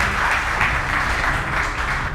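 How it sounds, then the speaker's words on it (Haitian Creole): Studio audience applauding a chef on a cooking competition show, a steady continuous wash of clapping held at an even level throughout, with no pauses. "S'il vous plaît, bat bravo pour lui."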